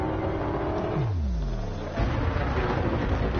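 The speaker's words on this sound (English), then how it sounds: "The engine sounds fantastic." The engine of a Krait Mk II ship in the video game Elite Dangerous drones as a steady, dense rumble with a falling then rising whine that swells louder midway, continuous throughout.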